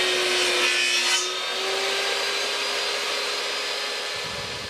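A saw cuts through a wooden board on a table saw with an outfeed table, a loud sustained whine and rasp that eases and fades after the first second as the cut finishes.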